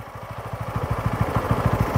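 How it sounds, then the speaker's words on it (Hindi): A TVS Apache RTR motorcycle engine runs stationary during a battery charging test, with a steady, rapid low thumping pulse that builds slightly in loudness, close by and without talk. "बट फिर भी हमारा जो इंजन है, इंजन चल रहा है।"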